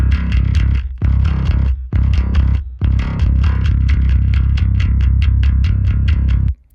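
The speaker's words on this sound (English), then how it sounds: "this distortion fader, this is kind of that last level of shine that this plugin puts on a bass" Distorted bass guitar plays a steady riff of repeated notes, loud and close, with gritty overdriven tone and brief pauses between phrases.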